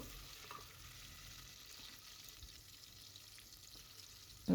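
Garlic paste frying in hot oil in a pot, a faint, steady sizzle and crackle without speech, ending with a brief louder clatter.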